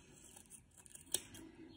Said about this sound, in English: I'm gonna cut a very thin paper